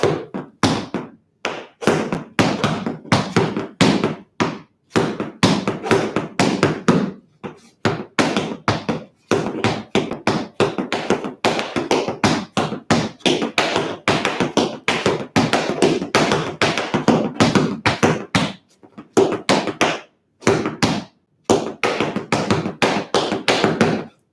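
Tap shoes strike a floor in brisk scuff, heel and step patterns during a tap class break led by Chicago tap master Lane Alexander, a near, loud run of sharp rhythmic taps with only brief pauses.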